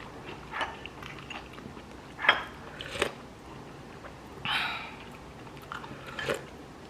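Someone bites and chews food at home, with several separate crunchy bites and wet chewing sounds spread through the clip, near and fairly quiet over a soft room background.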